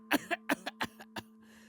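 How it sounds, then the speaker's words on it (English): Wet, phlegmy coughing from a sick character in the painting-themed visual novel It Paints Me: a close fit of about five or six sharp coughs in quick succession, tapering off, with a faint steady hum behind. "I cough again, another long wet trail dripping from my lips."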